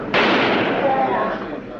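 Gunshot in archival 1963 TV news footage of Oswald being shot in Dallas: one sharp burst, then a loud, noisy crowd roar that continues throughout with raised voices.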